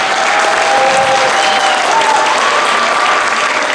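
A concert audience at a school music night applauds a tenor saxophonist, dense steady clapping filling the hall at full volume for several seconds.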